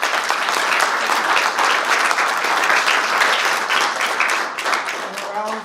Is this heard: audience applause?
yes